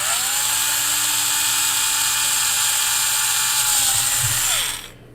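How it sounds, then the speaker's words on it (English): A small high-pitched rotary drill whines steadily up close for several seconds while drilling through a plastic scale-model Titanic part, its pitch dipping slightly under load before spinning down. "I can drill through here."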